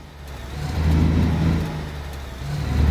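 The starter truck engine in the Alaskan Road Truckers video game drones loudly from outside the cab, a steady mid-pitched rumble that swells and eases as it works up an incline, with no talk.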